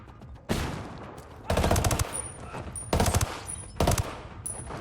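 Video game automatic rifle fire during a weapons test, three separate loud bursts of rapid shots with short gaps, each ending in a ringing tail, no talk.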